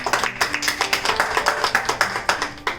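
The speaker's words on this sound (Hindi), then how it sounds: "तो एक बार पुनः नारी शक्ति के लिए जोरदार तालियां।" Applause from a poetry gathering's audience honouring women poets: sharp, closely spaced hand claps, steady and fairly near, with no voices over them.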